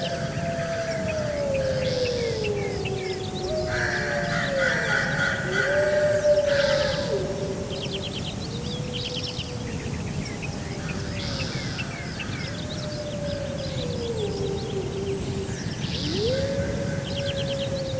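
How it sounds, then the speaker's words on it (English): Several wolves howl one after another in the distance, their long rising and falling calls sweeping slowly around the listener as randomly spawned environmental effects over a steady ambient bed, with faint bird calls. "So let's hear some wolves, hopefully off in the distance."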